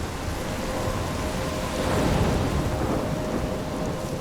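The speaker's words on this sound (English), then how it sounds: "I'm trapped in a storm?" A thunderstorm with heavy rain fills a video game scene in Life Is Strange: dense steady rain hiss with a low rolling rumble of thunder swelling midway, loud and continuous with no voices.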